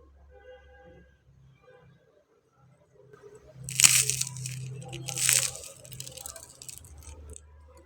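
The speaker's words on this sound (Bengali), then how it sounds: "এবার আপনাদের ভেঙে আমি দেখিয়ে দিচ্ছি।" A crispy deep-fried coconut-filled pitha snaps and crunches as it is broken by hand, two sharp cracks followed by crumbling, close and clear in an otherwise quiet room.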